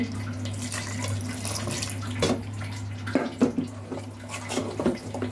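Water pours in a short trickle into rice batter for chitoi pitha in a kitchen, with a steady low hum underneath and soft splashes and clinks, no voice.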